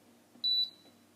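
A single short, high electronic beep sounds from the timer alarm of an Amica IN622W electric oven, close and clear over a quiet background.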